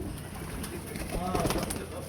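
Home-bred pigeons kept in a loft coo softly up close, a few rolling calls over a busy background with someone talking nearby.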